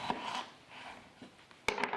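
A knife cutting down through a large raw potato to make fries, with soft slicing strokes followed by two sharp taps of the blade against the cutting board, close and quiet.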